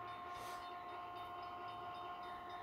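A train rolls along in the Train and Railyard Simulator video game, a steady rumble with a sustained tonal hum and no talking.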